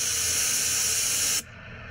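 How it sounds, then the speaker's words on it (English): Bear spray fires a loud, continuous pressurized hiss that cuts off abruptly, leaving a faint low background. "Just keep spraying until the bear stops."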